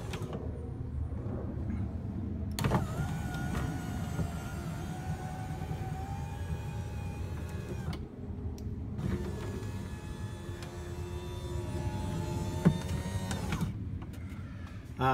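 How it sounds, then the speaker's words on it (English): A retrofitted power window motor in a Studebaker Avanti whirs steadily as the glass runs up, pauses briefly, then runs back down, a continuous close mechanical hum with rising whine near each end of travel. "and the window is going up. And the window is going down."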